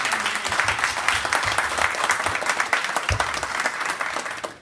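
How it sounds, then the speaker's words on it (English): Audience applause at a live evening event, honoring the speaker's father in the building, a dense, sustained roar of many hands clapping that holds steady for the whole stretch before tailing off abruptly at the end. "Y'all give him a round of applause."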